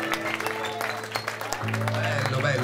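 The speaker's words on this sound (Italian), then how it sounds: "Facciamo un applauso anche al Califfo che ci ascolta" Audience applause at a live show in Jesolo, moderate and scattered, running beneath a voice and sustained tones that stay prominent over the clapping.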